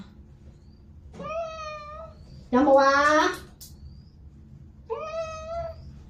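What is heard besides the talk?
ragdoll cat meowing during bath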